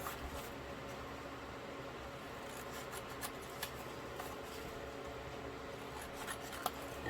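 Scissors cut along marked lines in paper for a Christmas mini album, a steady close rasping snip running continuously under a faint hiss, with no talk.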